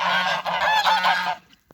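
Crested Normandy geese honk close by in a short, loud burst of nasal calls that cuts off abruptly, leaving a brief quiet with a faint tap.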